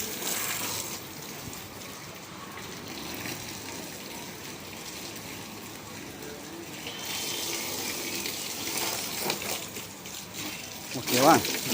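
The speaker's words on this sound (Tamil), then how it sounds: "இப்போ தண்ணி அடிச்சுட்டு ஒரு தொடச்சிடுவேன்" Water hisses and splashes steadily for several seconds as a spray hits wood, with a brief louder burst near the end.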